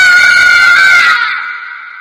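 A loud, sustained scream rings out from downstairs in a haunted rest house of a cartoon horror story, a single drawn-out cry that cuts off and fades away with no talk over it.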